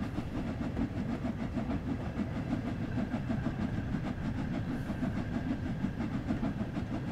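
A steam locomotive chuffs steadily along in the Train Sim World 2 simulator, a continuous low rumble with rhythmic exhaust beats and faint wheel clatter, with no talk.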